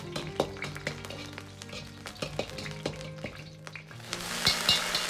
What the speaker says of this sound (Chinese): 油热后下入适量的干辣椒和红花椒，